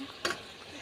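Potatoes frying in tomato paste crackle and sizzle softly, broken by one sharp stirring scrape near the start.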